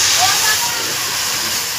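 Water hits a frying spice paste seasoned with dried chili powder for an egg curry, producing a loud, steady, close sizzling hiss that eases slightly but continues throughout.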